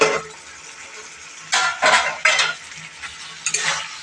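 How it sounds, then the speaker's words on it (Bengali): Chicken tossed in a pan with green chili, chopped onion, coriander and curry leaves is stirred in several quick scraping bursts, with a spoon clattering against the pan over a faint sizzle. "এটা দিয়ে জাস্ট একটা নাড়াচাড়া করবো 1-2 মিনিটের মতো।"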